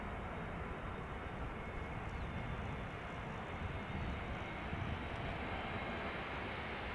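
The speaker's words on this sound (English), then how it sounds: "This is JetBlue arriving from Boston, Massachusetts." Quiet, steady rumble of a JetBlue airliner arriving at Schiphol from Boston, distant and unbroken with a faint whine above the low drone.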